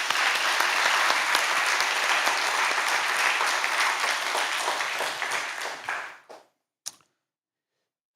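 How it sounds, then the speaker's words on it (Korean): Applause from a church congregation at a Friday prayer service, dense sustained clapping that fades out around six seconds, followed by a brief isolated sound and silence. "우리 앞에 서로 격려의 박수 하나님께 영광의 박수를 한번 드려요."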